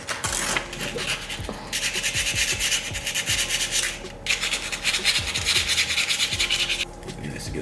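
Coarse sandpaper is rubbed by hand over a part from a TSX car during a maintenance job, making loud, close, rhythmic scraping strokes in steady back-and-forth bursts with brief pauses.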